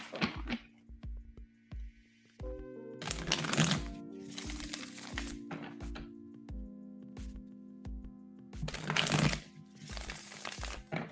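Tarot cards are shuffled by hand, giving rapid papery riffling bursts with soft taps and crinkles in between, close and fairly quiet, with no talking.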